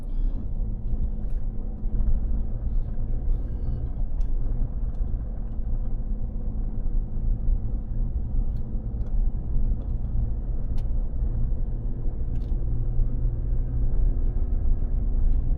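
A truck pulling a dump trailer climbs a landfill hill in four-wheel low, a steady heavy engine rumble and drone from inside the cab, continuous with no talking.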